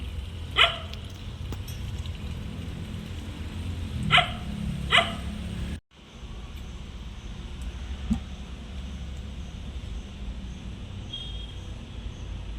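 A few sharp dog barks at a distance, spaced out over a steady outdoor background hum, with a brief pause partway through.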